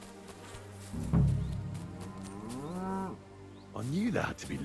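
Cows moo in the video game Kingdom Come Deliverance 2, with two long, deep, drawn-out lows rising and falling in pitch, loud and close over a steady low background hum, with no talking.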